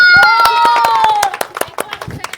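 Audience clapping at a household party game where a woman builds a bolt tower holding a glass, sharp irregular claps under a loud sustained tone and announcer speech, thinning into scattered claps.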